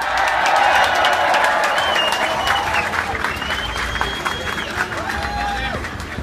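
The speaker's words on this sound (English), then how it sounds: "Give him a big round of applause." A crowd at a London demonstration for Gaza applauds a speaker being introduced, with dense, sustained clapping mixed with cheers, whistles and crowd noise, loud and continuous.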